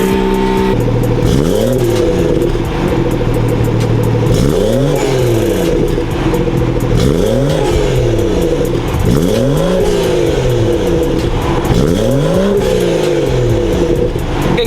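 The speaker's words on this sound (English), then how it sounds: "So that was the downpipe right now, and that was with the exhaust valves being closed." BMW B58 inline-six with an aftermarket downpipe and its exhaust valves closed, revved repeatedly from idle: four or five loud, close throttle blips that rise and fall in a steady rhythm over a continuous engine drone, with no talking.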